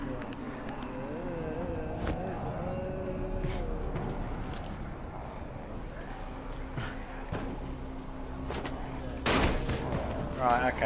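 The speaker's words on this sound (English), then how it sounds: "That's firecrackers, as you just saw there." Firecrackers popping in the zombie game Dying Light on PC, a string of sharp crackling bursts scattered among game sounds while a voice talks over them.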